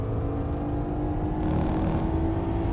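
A steady engine drone of a Nissan Skyline in the video game Gran Turismo 4 hums continuously at a constant pitch, like a car cruising along, moderately loud with no speech.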